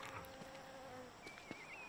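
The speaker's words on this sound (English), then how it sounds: "That sounds like a mosquito." Mosquito buzzing in Don't Starve Shipwrecked, a faint thin whine drifting in pitch over a quiet ambient game background, alone without talk.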